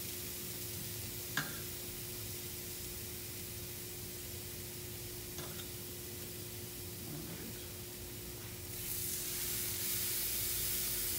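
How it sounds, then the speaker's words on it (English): Food sizzles steadily on a hot grill, a continuous crackling hiss that swells a little louder near the end, with a few faint clinks. "Nice sizzle."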